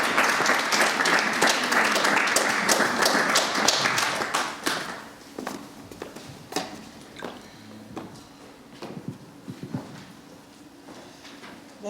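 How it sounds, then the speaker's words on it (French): A gala evening audience in Brussels applauds loudly, and the dense clapping thins out into scattered claps and fades away. "Sous vos applaudissements,"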